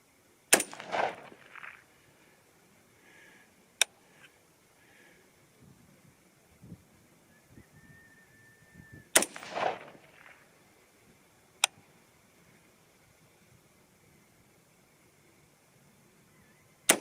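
A 5.56 rifle firing 55-grain Nosler Varmageddon loads gives sharp, isolated cracks spaced several seconds apart, two of them followed by a rolling echo, with quiet outdoor stillness between shots.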